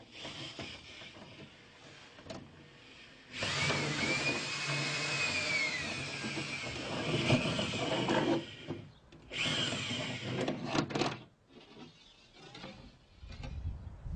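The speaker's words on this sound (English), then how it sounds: "It's easy to get the drill out if you just give it short bursts in reverse." A drill runs in reverse in a few whining bursts of several seconds each, separated by brief pauses, fairly close with some grinding and rubbing as it is pulled out of a wall.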